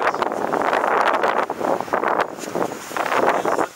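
Strong wind in a cemetery buffets the microphone in loud, uneven gusts, rushing and roaring with short lulls between blasts.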